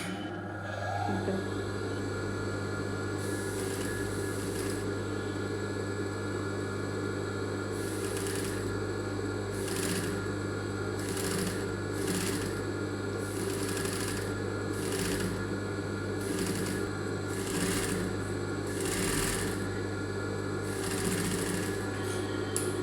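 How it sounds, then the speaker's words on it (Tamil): Domestic sewing machine stitching lace onto a blouse sleeve edge, a steady close whirring hum with repeated bursts of faster needle runs and short pauses between them, no talking. "லேஸை வச்சு தைச்சி பாருங்கள்"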